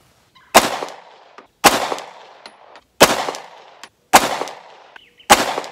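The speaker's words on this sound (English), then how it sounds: "And last, five rounds of the 147 grain Federal." Five loud, sharp pistol shots of 147-grain Federal ammunition from a Glock, spaced about a second apart, each with a short ringing tail, close and alone with no talking.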